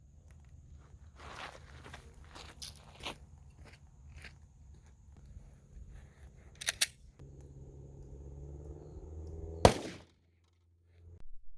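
A 357 SIG handgun fires one sharp shot at 15 feet into ballistics gel on a range, preceded by footsteps and scattered handling clicks.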